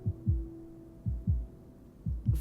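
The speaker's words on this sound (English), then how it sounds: "then I hear my own heartbeat in the silence" A slow, muffled heartbeat sound effect in a romance game story, four double thumps in steady rhythm over a faint low hum, with no talking.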